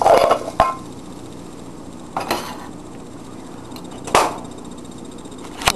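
A plate slid over a frying pan of eggs to flip them out, giving several sharp scraping clacks of ceramic on metal spaced a couple of seconds apart over a steady low background hiss.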